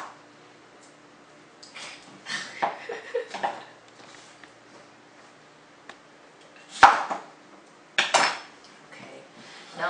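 Big cut potato pieces land in a pot one after another, making several close, sharp clunks and knocks of varying loudness in a quiet kitchen, with a louder hard clatter near the end.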